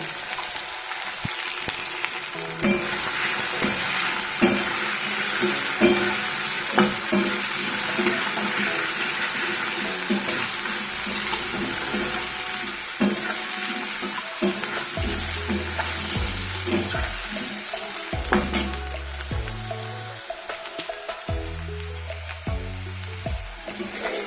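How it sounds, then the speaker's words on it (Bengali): Potatoes seasoned with salt and turmeric sizzle steadily in hot oil, a continuous frying crackle with occasional stirring scrapes and low knocks from the pan, and no one talking. "নুন হলুদ দিয়ে আলুটা ভেজে নেব।"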